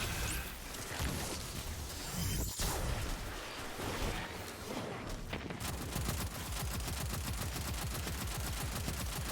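Rapid video game gunfire crackles in dense bursts for several seconds, automatic fire and scattered shots layered throughout a busy, loud battle mix, with no clear talking over it.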